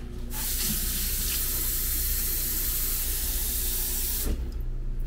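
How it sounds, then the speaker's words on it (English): Tap water runs steadily into a pot at a kitchen sink, a loud continuous rushing hiss that starts abruptly, holds for about four seconds, then cuts off. "now we're going to fill this with water and boil it."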